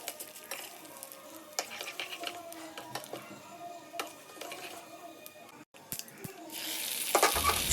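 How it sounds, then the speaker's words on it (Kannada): Urad dal and two dry red chillies sizzle in a hot tempering pan, with quiet crackles and ticks through the clip before a louder burst of hissing sizzle near the end. "ಫೈನಲಾಗಿ 2 ಒಣಮೆಣಸಿನ್ಕಾಯಿ ಹಾಕಿ ಸ್ಟವ್ ಆಫ್ ಮಾಡಿ"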